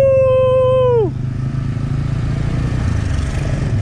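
A Yamaha 75 two-stroke motorcycle engine drones loudly and steadily while climbing on a misty road, a high whining tone dropping sharply after a second into a rough, buzzing, sustained note.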